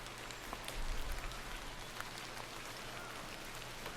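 Rain falls steadily in the video game The Excavation of Hob's Barrow, a faint, even hiss of drops with occasional soft patters and no talk.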